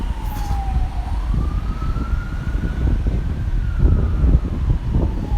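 An ambulance siren wails from a distance, one long rising and falling tone drifting over steady street traffic rumble, with no talking.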